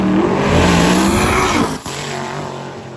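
Drag race car making a full pass at a drag week event, a loud, sustained engine roar that climbs and then drops sharply near the end before settling into a steadier drone.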